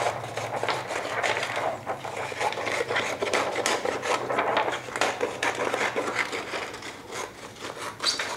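Blades or a cutter scrape and rasp through plastic screen printing film as it is trimmed, a steady close scratchy rubbing with rapid irregular strokes and no voice.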